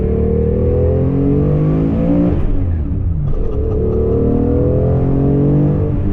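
A Porsche sports car engine revs hard and loud from inside the cabin, pitch climbing through gears, a brief dip at a shift, then rising again.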